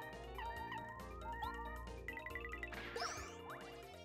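A Bell Shot attack in the Paper Mario video game rings out as bright, tinkling bell dings and chimes layered over the game's background music, ending in a short sparkling flourish.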